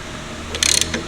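A Porsche 964 engine is turned over by hand with a ratchet, giving a short burst of rapid close metallic clicks from the pawl lasting about a quarter second, followed by one more faint click.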